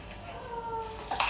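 A house cat gives one brief, faint meow indoors, a thin rising-and-falling cry under a low background murmur.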